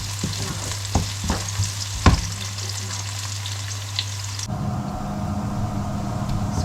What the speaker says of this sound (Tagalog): Nagpiprito ako niyan, mga palangga, and then nagsusutay na ako ng bawang and ating sibuyas.